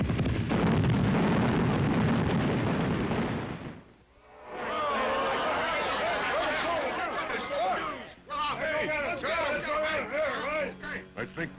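A loud, roaring cartoon bomb blast fills the first few seconds, drops off abruptly, and is followed by a rumbling aftermath mixed with voices talking.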